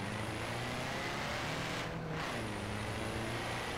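A 1951 Porsche race car numbered 46 in Forza Horizon 4 drones steadily, its engine tone holding throughout with a low rumble, briefly thinning in the middle before returning at full strength.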